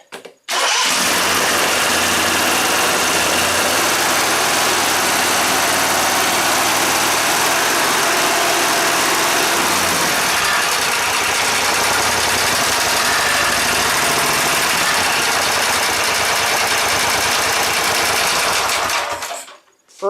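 A rebuilt 20 hp Briggs and Stratton small engine fires up and runs steadily for about twenty seconds, with a loud, close, continuous buzzing drone that holds even throughout before cutting off at the end.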